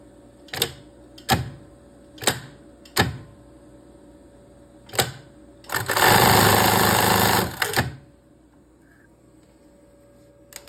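Domestic sewing machine stitching fabric for underwear, in short separate bursts of rapid needle clatter, then one longer continuous run of stitching, close and clear with quiet pauses between.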